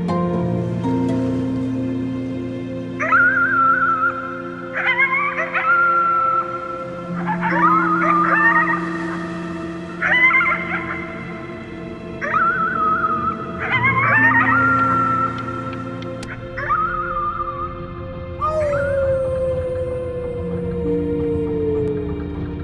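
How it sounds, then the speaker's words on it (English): A child howls at the moon in the video game Before Your Eyes, giving a string of wavering, rising cries over a sustained musical backdrop, with the final howl sliding slowly downward. "You howled at the moon, at the top of your lungs."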